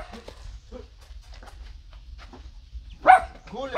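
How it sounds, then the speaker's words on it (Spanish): Dogs give a few faint, scattered yips and whimpers at a distance, then one sharper, louder bark or yelp rings out near the end. "A ver cómo están, están los perritos también"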